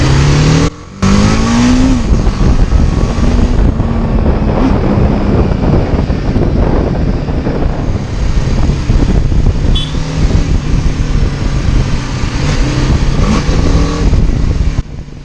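BMW G310GS single-cylinder motorcycle pulling hard at full throttle, its engine note steady and loud close to the microphone, with heavy wind buffeting throughout and a brief dip near the start.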